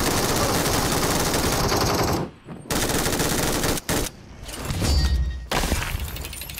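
Rapid automatic gunfire from a PUBG Mobile match, loud, dense bursts that fill most of the stretch with brief gaps, plus shattering impacts and no talk.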